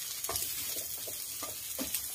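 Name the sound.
sautéing squash in a pan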